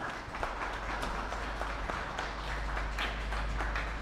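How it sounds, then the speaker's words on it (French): An audience at a citizen innovation and leadership award ceremony in a hall, applauding steadily for several seconds, a dense wash of clapping at even loudness with no voices over it. "M. Fred Boutus, que je vous demande d'applaudir, s'il vous plaît"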